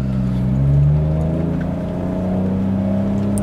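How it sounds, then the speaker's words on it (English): Toyota Chaser JZX100 with its 1JZ inline-six and aftermarket intake and exhaust, a steady, loud engine drone with a slight rise in revs early on, close by and continuous with no talk. "That inline 6 is just absolutely gorgeous. Love the sound of the 1J."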